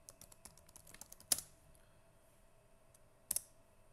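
Quick, faint keystrokes as a password is typed on a computer keyboard, a burst of light clicks followed by two sharper isolated key presses, with no one speaking.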